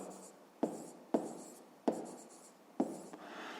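Pen strokes scratch across paper close by while working a fifth-grade math exercise, four distinct sharp taps or strokes, each followed by a short trailing scratch.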